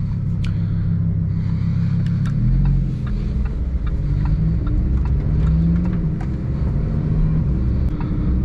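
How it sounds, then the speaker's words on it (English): A Lamborghini Huracan STO drives with a steady, loud low engine rumble that swells and eases slightly as it goes, heard from inside the car with no talking. "So people, let's now take the Huracan STO out for a drive."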